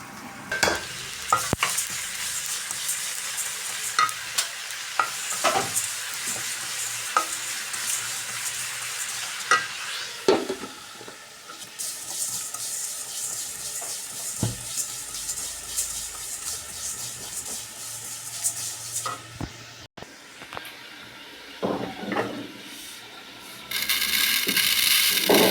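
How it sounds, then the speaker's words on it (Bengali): Chilies frying in oil for a spicy mango pickle, a close sizzle broken by repeated scraping and knocking of a spatula against the pan, with louder hissing bursts near the end. "মরিচগুলো আমি ঠিক এইভাবে করে ভেজে"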